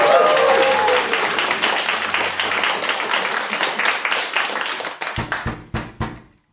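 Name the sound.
audience applause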